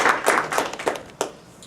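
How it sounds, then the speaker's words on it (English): An audience at a university humanities talk gives a short burst of applause welcoming a speaker, a few scattered hand claps fading quickly to quiet, with no speech. "Please welcome him with applause."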